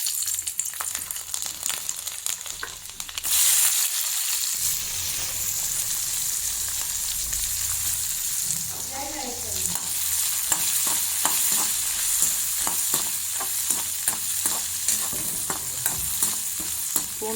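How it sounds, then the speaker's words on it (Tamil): Garlic, dried red chilies, onion and tomato sauté in hot oil in a kadai for a toor dal chutney, giving a loud, unbroken sizzle with frequent quick stirring clicks, briefly dipping near the start, with no talking. "இப்போ அதே எண்ணெயில் நம்ம வந்து பூண்டு, வரமிளகாய், வெங்காயம் தக்காளி எல்லாமே நல்லா வதக்கிக்கலாம்."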